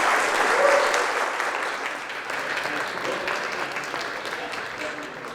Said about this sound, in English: Round of applause, please, for Beatrice Maurizi.